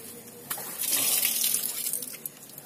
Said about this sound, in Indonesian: Kemudian air radiatornya kita buang ya